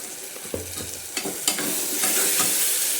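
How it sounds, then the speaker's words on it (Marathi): An onion-garlic masala with turmeric and red chilli powder is stirred and roasted in a pressure cooker for chicken biryani. A steady close sizzle runs under a few sharp spoon knocks and scrapes. "चांगलं एकसार कालवून घेऊन भाजून घ्यायचा आहे"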